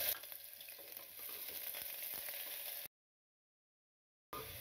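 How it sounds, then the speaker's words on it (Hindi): Onions and garam masala frying in hot mustard oil for a meat curry, a steady close sizzle with light stirring scrapes that cuts out to silence partway through, then returns briefly. "अब मैं इसमें गरम मसाले और प्याज डाल दूंगी।"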